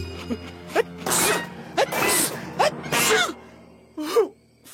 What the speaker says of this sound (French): Ça va stopper mes éternuements.